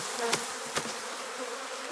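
Honey bees hum in a steady, dense drone at an open hive during spring nest expansion, the buzz close and continuous with a couple of brief louder passes near the ear.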